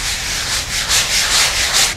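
Coarse 80-grit paper scrubs by hand across a dried first coat of microcement, giving a close, gritty scratching sound with about half a dozen rhythmic strokes in a row.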